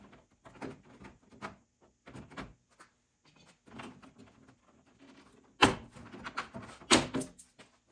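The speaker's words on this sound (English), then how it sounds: "Then the door panel should just pop right off." A door panel being pried off a 1973 Ford F250 truck door, a series of dull knocks and rattles followed by two sharp pops as the clips release, close and loud.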